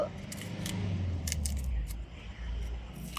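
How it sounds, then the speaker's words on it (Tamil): Cassava tuber being peeled by hand with a knife, giving a few close, sharp scraping and snapping sounds over a low background rumble. "இப்போ நான் இந்த கிழங்க சீவரன் பிரித்து போட்டு"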